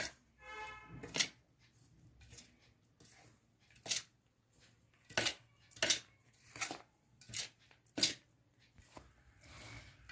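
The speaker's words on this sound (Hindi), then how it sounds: "इसे अब हम एक छन्नी की हेल्प से छानते हुए इसमें डाल देंगे और मिलाते भी जाएंगे" Gond laddu mixture shaken through a sieve and stirred into the bowl of ingredients, giving scattered clinks and scrapes of utensil against metal, a dozen or so close taps and rattles spread irregularly over quiet gaps, no voices.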